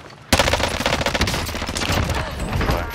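Gunfire in a battle royale video game begins abruptly after a moment of quiet and continues as a dense, rapid automatic burst, loud and close, sustained to the end.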